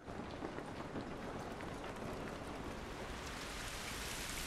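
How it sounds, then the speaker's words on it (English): Steady rain falling outdoors in the video game The Last of Us Remastered, a dense, even wash of drops on surfaces that holds at a constant moderate level throughout, with no voices over it. "It's raining."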